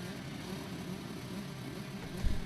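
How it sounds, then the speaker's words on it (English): A pack of 125cc and 250cc motocross bikes revs at a race start on a British championship track, a dense, continuous engine roar that stays steady and fairly distant, swelling slightly near the end. "they are revving up, getting ready"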